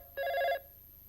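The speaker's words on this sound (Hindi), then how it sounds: "मुबारक हो, पहली टेलीफोन कॉल आ भी गई, उठाइए" A landline telephone rings once with a short electronic trill, clear and alone in a quiet room, as the first call comes through on a newly connected line.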